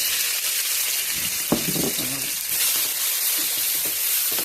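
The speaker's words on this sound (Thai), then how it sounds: "ใส่น้ำมัน ลงไปเจ้าแล้วก็จะใส่เครื่อง แกงที่เขาตำไว้ตะกี้ลงไปเลย" Homemade pounded curry paste frying in hot oil in a pot, a steady loud sizzle with stirring scrapes partway through, close up and without talk.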